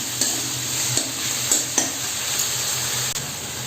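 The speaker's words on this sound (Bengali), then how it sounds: "টমেটোগুলো হালকা ভাজা হয়ে এসেছে" Tomatoes and green chillies fry in a pan with a steady, loud sizzle, while a utensil stirs them with a few distinct scraping taps spread through the sound.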